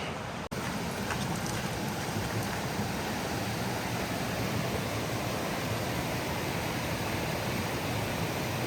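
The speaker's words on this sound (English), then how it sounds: "I can hear a river on my right" A river flows beside the Portage Glacier trail, a steady, broad rushing wash of water that starts abruptly and stays loud and even throughout, with no voices.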